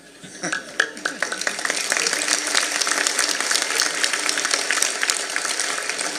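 An audience at a Marathi kirtan claps in a dense, continuous wash that swells quickly and holds steady, with a voice faintly underneath.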